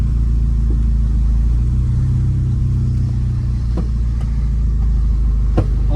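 A car engine idling and running at low revs on a test drive with a suspected gear-shift problem, a loud, steady low rumble with a few faint clicks and knocks inside the cabin.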